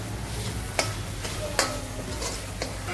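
Spice masala fries in oil for a Nashik-style misal, a steady sizzling bed with a few sharp clicks of a spoon against the pot at intervals.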